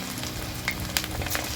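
Cauliflower pieces for restaurant-style Gobi 65 deep-frying in oil kept at moderate heat: a soft, steady sizzle with a few brief crackling pops, quiet and close, with no talking.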